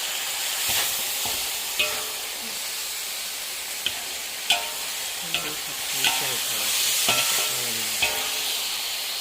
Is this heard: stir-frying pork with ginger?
yes